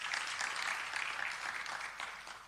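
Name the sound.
audience applause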